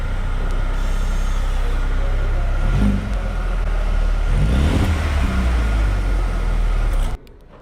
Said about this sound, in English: listen to the sound from the engine